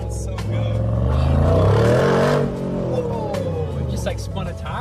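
A 2022 Mercedes G63 G Wagon engine revs hard while driving, a loud, deep rising roar that swells for a couple of seconds and then drops back to a lower rumble.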